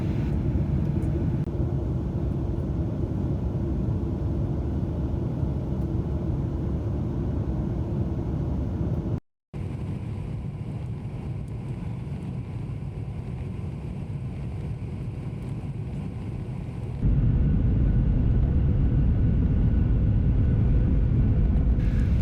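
Steady, loud cabin roar inside a Delta Air Lines Boeing 737-900 on approach to landing at Minneapolis, a continuous engine and airflow rumble that briefly cuts out and then deepens and grows heavier near the end.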